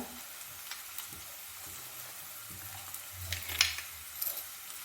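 Chopped onion fries with ginger, garlic and green chili in a pan, making a soft, faint sizzle with a few quiet stirring scrapes near the end, and no voices.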